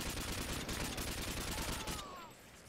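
Modern Warfare 2 gunfire, a dense rapid volley of automatic shots that is loud for about two seconds and then cuts off into quieter background.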